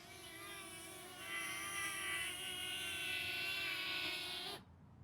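A DJI Flip drone flies close by with a steady high-pitched propeller whine and hum that rises slightly in pitch, then cuts off abruptly near the end.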